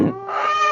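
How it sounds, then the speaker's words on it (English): Backyard flock chickens let out a loud, close squawk that turns into a sustained, shrill screaming call. No one talks over it. "My goodness, these chickens scream."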